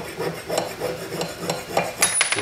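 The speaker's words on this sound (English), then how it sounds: "finish it off, sanding. Get a nice smooth section of tube." Repeated rasping strokes of sandpaper on a sterling silver tube, steady back-and-forth rubbing, close by, with a few sharper scrapes toward the end.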